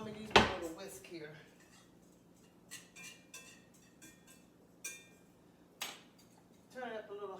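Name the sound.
stirring gravy with a small whisk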